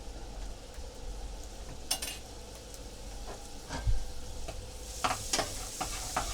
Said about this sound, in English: Now here I'm adding 5 tablespoons of butter